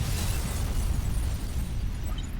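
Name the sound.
explosion of the Paris Hotel bombing in Metal Gear Solid 2 video game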